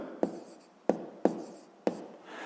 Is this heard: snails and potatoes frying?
no